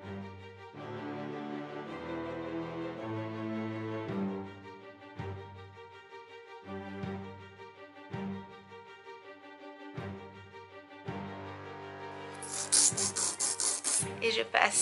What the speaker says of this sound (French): je passe un coup de lime en dessous